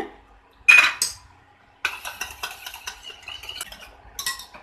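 A spoon mixes soda and water in a small bowl for rava idli batter, giving close clinks and scraping taps on the bowl: a sharp knock first, then a busy stretch of stirring clatter.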